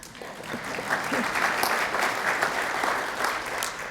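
An audience claps during a lesson talk, dense sustained applause from many hands at an even, moderately loud level throughout.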